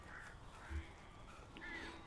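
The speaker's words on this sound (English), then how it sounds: "Oh, look at the birds." Crows cawing in the video game Alan Wake, two or three faint harsh calls over a soft ambient background, short and distant.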